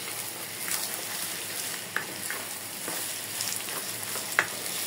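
Fish roe frying with dry red chili paste in a pan, a dense continuous sizzle and crackle with a few light spoon taps from stirring, close and even in loudness, no talking.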